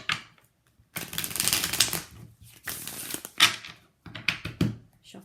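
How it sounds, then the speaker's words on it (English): Tarot cards riffled and shuffled in several short bursts with brief pauses between them, close and crisp, with no talking. "Shuffle a couple more times."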